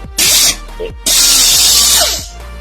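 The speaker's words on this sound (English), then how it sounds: "my tool of destruction is my air grinder here" A handheld pneumatic air grinder in a workshop runs in two loud bursts of high, hissing whine, a short one and then a longer sustained run that winds down, close up with no talk.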